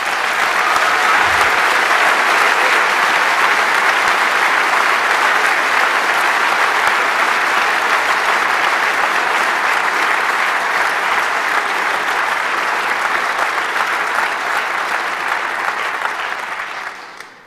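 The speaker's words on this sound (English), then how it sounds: "please a huge round of applause for the Orga team" Sustained applause from a large crowd at a conference closing event, loud and even for the whole stretch, fading out at the very end.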